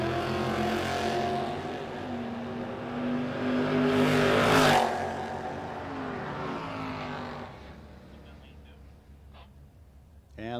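Plymouth Duster drag car launching at a drag race, its engine roaring loud and rising to a peak around the midpoint before fading into the distance, with an announcer talking over it.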